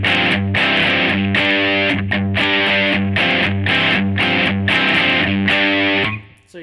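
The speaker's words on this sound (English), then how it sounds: "there's also like a more Marshall kind of sound, like a straight kind of Marshall amp without much distortion" Electric guitar through a Marshall-style amp with light overdrive, playing loud, close, rhythmic chords in short repeated bursts that ring out and fade at the end.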